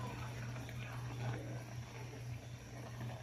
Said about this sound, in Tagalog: Nagkulo na siya guys.